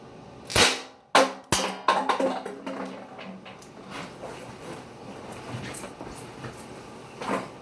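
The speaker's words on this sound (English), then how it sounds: "This is the USP. We're going to check out, see how it performs against the Mountain Dew bottle." An airsoft H&K USP pistol fires several sharp snapping shots at a plastic Mountain Dew bottle, the first few loud and spaced, followed by quieter handling clicks and rustle.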